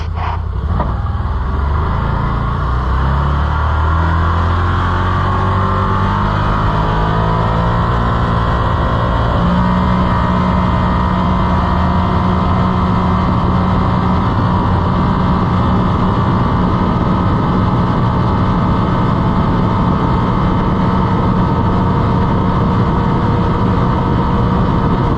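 A Can-Am Defender XMR side-by-side with a roughly 1000 cc engine drones loudly and steadily while driving, its pitch climbing early on and then holding a sustained, close, continuous roar with no talk.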